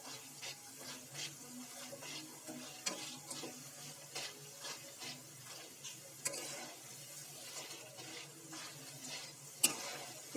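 Boondi frying in hot oil while being stirred, a steady close sizzle broken by repeated scraping stirs at a fairly even rhythm, with no talk.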